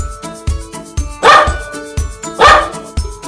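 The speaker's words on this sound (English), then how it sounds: "This is dog. It makes woof-woof sound." A farm dog barks loudly and close in a steady rhythm, sharp single barks about every half second with two stronger, fuller barks among them, set over a backing musical beat.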